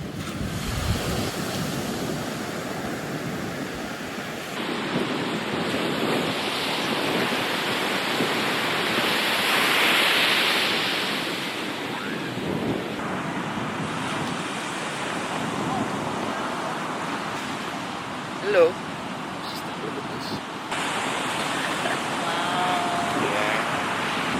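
Surf rolls onto a beach in Bali, heard from a sunbed as a continuous washing roar with swelling waves and gusts of wind buffeting the microphone.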